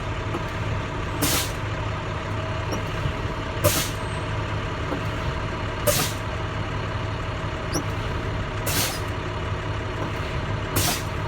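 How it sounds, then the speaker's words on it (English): Air brake on a truck, hissing in five sharp bursts spaced about two seconds apart over a steady idling diesel engine inside the cab, with no talking. "So I'm going to go ahead and step on my service brake."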